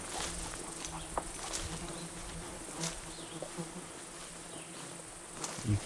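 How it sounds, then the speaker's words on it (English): Insects buzz and whine steadily outdoors by Iron Range Lake, Ontario, a dense ongoing hum with occasional flies passing close, continuous for several seconds with no talking. "You can probably hear that the bugs are out in full force today."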